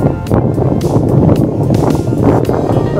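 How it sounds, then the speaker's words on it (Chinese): A boat's motor rumbles low and steady as the boat makes a wide, sweeping turn with the throttle eased back, mixed with wind buffeting and water noise close to the microphone. "他要转弯，转弯他就把马达稍微关一下。"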